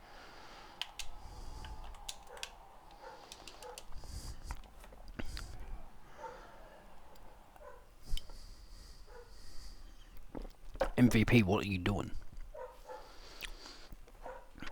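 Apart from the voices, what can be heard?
dog barking in the room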